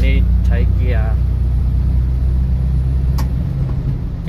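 A heavily loaded four-ton truck in fifth gear grinds up the Rama II bridge approach, its engine droning as a loud, steady low rumble throughout while someone talks over it.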